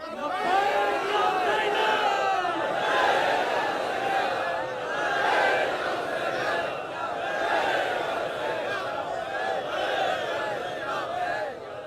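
A large crowd at a rally chants slogans in unison, rising and falling in loud repeated waves of many voices throughout.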